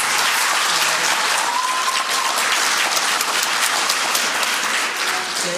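An audience applauds Dr. Marion Nestle after a talk on big food and big soda, a dense, steady wash of clapping from many hands that holds loud and even throughout.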